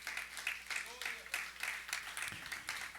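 Rhythmic hand clapping from a church congregation during a Spanish-language communion service, steady quick beats several times a second, moderately loud with a faint murmur of voices underneath.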